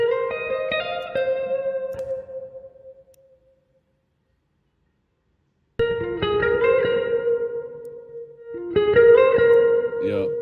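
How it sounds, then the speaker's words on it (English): A twangy, echoing guitar plays a short melodic phrase, falls silent for a couple of seconds, then picks back up with repeating plucked notes. "Guitar sound like this."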